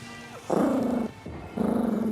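A dog or wolf-like creature in Elden Ring Shadow of the Erdtree growls low and close in two sustained rumbling bursts separated by a short pause, loud and alone without talk.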